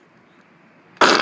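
A person's voice imitating a Bigfoot call lets out a sudden loud, harsh, breathy blast after a second of near silence, lasting until the end.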